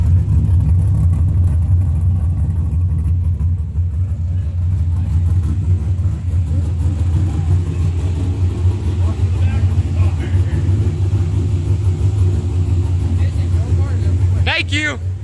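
A 1968 Pontiac Firebird with a manual transmission idles loudly and steadily with a deep rumble throughout, a brief rev near the end, and voices faintly in the background.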